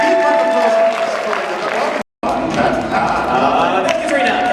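Audience applause fills a convention hall at a furry con: a dense, steady clatter of clapping, briefly cut off midway, with a voice speaking over it.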